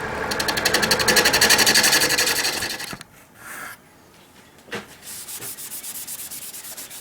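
A woodturning tool cuts a heart pine vase spinning on a lathe, giving a loud, rhythmic scraping rasp that stops abruptly. It is followed by quieter shuffling, then a softer pulsing rub, with no talking.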